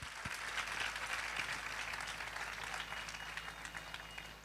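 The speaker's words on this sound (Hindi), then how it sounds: "यीशु के लिए जोरदार तालियां बजाएं।" A church congregation applauds for Jesus during a worship service, a dense, steady wash of many hands clapping at moderate distance, continuous and fairly even throughout.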